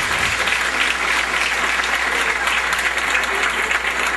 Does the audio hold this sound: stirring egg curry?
no